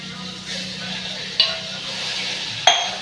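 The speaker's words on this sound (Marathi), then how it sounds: "एक मिनिट थोडीशी मोहरी घातली, परतावली जोरात. थोडंसं जिरं, कांदा भाजून घ्यायचा कांद्याचा." Mustard seeds, cumin and onion frying in hot oil give a soft, steady hiss, broken by two sharp metallic clinks of a spoon stirring against the pan, fairly quiet and close.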